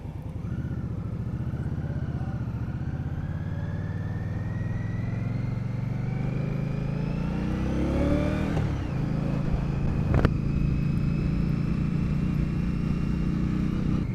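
A 2021 Indian Scout Bobber motorcycle accelerates up a highway on-ramp, its engine climbing steadily in pitch through the gears with a brief shift break, heard close and loud over wind, with no talking.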